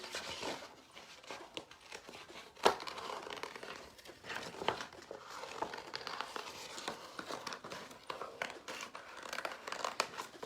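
Scissors snip and crinkle through paper for a craft cut-out, a busy run of small close cuts and rustles at moderate loudness with no talking.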